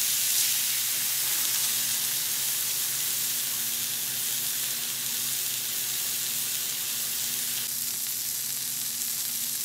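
A turkey club wrap sizzles steadily as it cooks in a hot pan, a loud, even frying hiss that carries on without pause and without voices.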